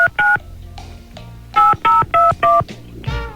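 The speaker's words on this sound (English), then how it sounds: "Let me dial him up." Telephone dialing tones ring out loud and close: two quick keypad beeps, a pause, then four more in a steady run, ending in a short burst of line noise.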